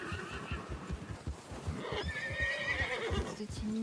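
A horse in the Western game Red Dead Redemption whinnies loudly over steady clip-clop hooves, the neigh rising high and sustained near the end while galloping thuds continue throughout.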